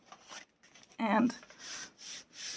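Paper is rubbed firmly along the fold of an envelope folder, giving soft, dry, scratchy strokes close by, with a brief spoken moment mixed in before the rubbing.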